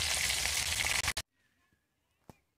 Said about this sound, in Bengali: তো তোমাদের একটু মাছ ভাজাটা শেয়ার করলাম